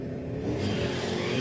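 A kit car launches down a drag strip at a retro drag racing event, its engine building into a loud, rising roar that swells over the second half and stays heavy to the end, with no voices.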